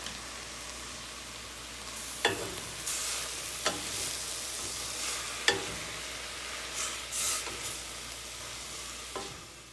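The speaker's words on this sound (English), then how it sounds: "I'm going to go ahead and pour that into the onion and garlic mixture" Riced cauliflower sizzles softly in a frying pan with onion and garlic while a utensil scrapes and stirs, with several sharp clinks of metal against the pan spaced a few seconds apart.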